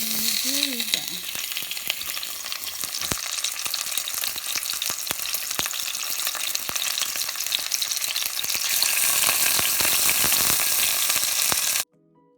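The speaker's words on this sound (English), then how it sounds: "let's start searing our roulade now" Fish roulade held with a toothpick sears in a hot pan, a loud, continuous sizzle and crackle of frying that swells slightly toward the end before cutting off abruptly.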